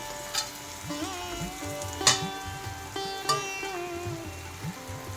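Brinjal pieces tipped into a pan of sizzling onion tempering for Maharashtrian vangyache bharit, frying steadily under repeated scraping stirs with a few sharper clatters of the spatula, close and moderately loud, no talking.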